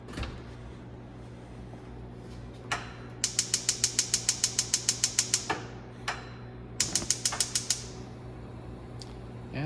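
Rapid, evenly spaced clicks of a gas stove burner igniter in a kitchen come in two bursts, sharp and close, with a few isolated clacks around them.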